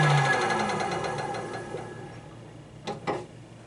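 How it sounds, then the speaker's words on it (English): Treyco Model 3000 clipper blade sharpener running with its wheel and arms in motion, a steady mechanical whir with rhythmic ticking that slowly fades, followed by two short louder knocks near the end. "Start the wheel, start the arms, let it make 3-4 strokes"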